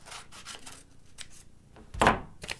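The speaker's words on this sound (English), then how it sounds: "I'm going to cut along that fold line" Scissors snipping through folded paper along the crease, a run of soft rasping cuts ending in a louder crisp snip near the end, close and without talk.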